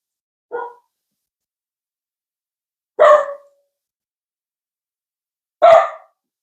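A household dog gives three sharp alert barks, spaced a few seconds apart, close and loud, with silence between them.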